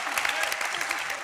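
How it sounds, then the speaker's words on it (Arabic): Applause for the women of Tunisia on a Tunisian TV show set, a dense, steady burst of clapping from a studio audience throughout the short moment. "تصفيق على نساء تونس."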